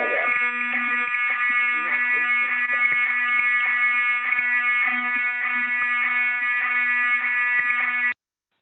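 A harmonic alarm tone blares steadily on a remote participant's line during an online public hearing board meeting, loud and continuous for about eight seconds before cutting off abruptly.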